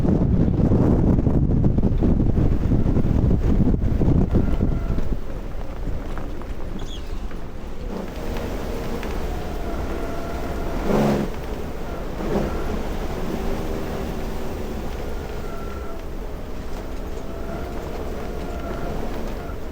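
Strong gale wind from Storm Floris, a 70 mph summer gale in Scotland, buffets a sailboat at anchor; heavy roaring gusts batter the microphone for about five seconds, then ease into a steadier rushing blow.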